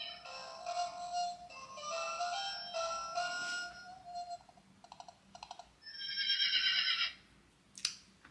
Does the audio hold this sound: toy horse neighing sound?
yes